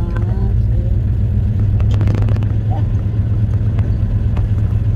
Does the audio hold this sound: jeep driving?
yes